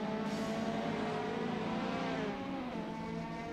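A mid-engine race car roars loudly and continuously at Bushy Park Circuit, the pitch rising and falling as it revs.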